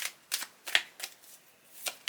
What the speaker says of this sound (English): So I'm going to shuffle the cards for each pile